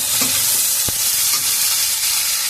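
Onion frying in a pan for Sankar fish curry makes a steady, bright sizzle with occasional scrapes and knocks of a stirring spoon, close and continuous without talk.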